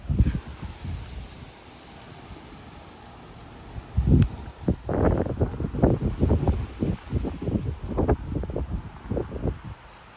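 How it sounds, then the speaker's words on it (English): Strong wind gusts of 40-50 mph buffet a yard in Frisco, Texas, with irregular loud bursts of microphone rumble building after a quieter opening. "Those were some big gusts right there."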